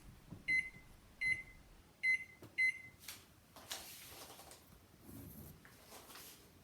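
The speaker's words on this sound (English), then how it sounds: "we want to stick it into the microwave for approximately 3 minutes" Four short electronic beeps from a microwave oven ring out in a quick series, followed by its low running hum and faint clattering close by while water and lemon juice heat inside.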